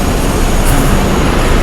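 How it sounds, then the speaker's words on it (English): A New York subway train pulls into a station on its way to Manhattan, with a loud, continuous rumble of wheels on rails and a brief high squeal near the middle. "train arriving to Manhattan, arriving now"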